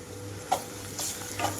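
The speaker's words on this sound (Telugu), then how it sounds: "ఉల్లిపాయలు కొంచెం కలర్ మారేటప్పుడే ఇందులోకి అల్లం వెల్లుల్లి పేస్ట్ ఒక స్పూన్ వరకు వేసుకుంటున్నాను" Ginger garlic paste frying with onions in a pan, making a soft steady sizzle with a few brief scrapes of stirring, close and fairly quiet with no talking.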